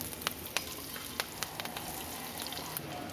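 Whole cumin seeds and green chilli sizzle in hot oil, a steady bright frying hiss broken by scattered pops and crackles, close and alone with no voices.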